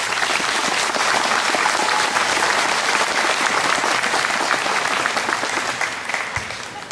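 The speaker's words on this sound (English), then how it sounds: "So a big round of applause for our entertainment." A large audience at the 2016 Kentucky Mountain Laurel Festival Queen's Coronation applauds the entertainment with a full, steady roar of clapping that holds strong before easing slightly at the end.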